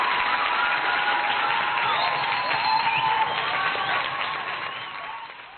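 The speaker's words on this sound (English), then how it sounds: "a big round of applause for Slayer for doing the right thing there" Sustained audience applause on a rock podcast show, a steady, full wash of clapping with some cheering that fades slightly at the end.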